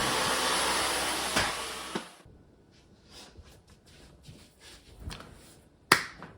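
A vacuum cleaner runs with a loud, steady roar for about two seconds, then shuts off, leaving faint clicks, rustles and one sharp knock in a quiet room.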